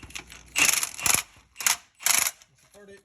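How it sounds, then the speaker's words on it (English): A transmission jack is pumped upward in a shop during a 4.0 Jeep XJ engine swap. It gives four close, loud bursts of mechanical ratcheting, each about half a second long, separated by short pauses. "This is a transmission jack. And we gotta go up."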